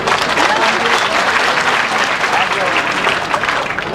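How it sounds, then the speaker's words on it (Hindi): Dense, loud crowd applause at a political rally in Itkhori, Chatra, Jharkhand, a continuous wash of many hands clapping that holds steady throughout. "तालियां बजाकर आपने स्वागत किया"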